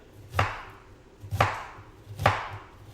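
Three evenly spaced knife chops land on a cutting board while food is being diced for chicken parmesan, each a crisp, close thud about a second apart, with no talking.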